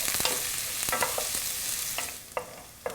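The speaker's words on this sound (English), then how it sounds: "I'm going to add in my onion and my garlic. And I want to saute this for about 2 minutes." Onion and garlic sautéing in a pan, a steady soft sizzle running throughout with a few light scrapes and taps of a utensil stirring them, close and fairly quiet.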